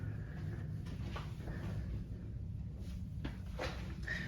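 A hotel room closet door with drawers is handled, giving a few faint knocks and slides against steady room hum, with no talk.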